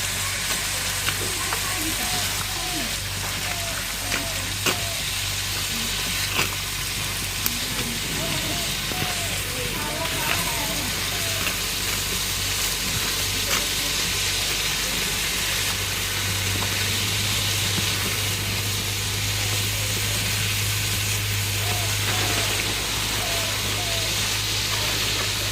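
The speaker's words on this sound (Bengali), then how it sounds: "এখন হচ্ছে এই সবজির সঙ্গে আমি মসুর ডালটা কষিয়ে নেব" Red lentils and pumpkin sautéing in a pan in a village kitchen give a continuous crackling sizzle with occasional stirring scrapes, set against a low steady hum and background noise.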